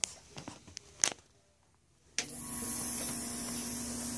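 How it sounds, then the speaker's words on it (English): A facial spray vac machine misting distilled water starts up after a few soft handling clicks and a quiet pause, then holds a steady hiss over a low motor hum. "now we're going to move on to our spray vac"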